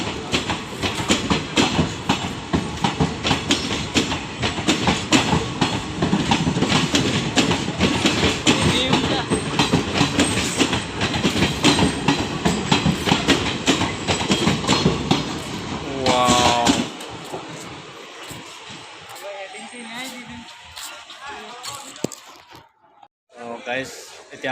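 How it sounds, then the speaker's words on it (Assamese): A passenger train arriving from Guwahati rolls past close by with a loud, continuous rumble and clatter for most of the stretch before thinning to a quieter rattle near the end, while a voice is heard. "মোৰ পাছফালে দেখিছে ট্ৰেইন এইখন গুৱাহাটীৰ পৰা আহিলে"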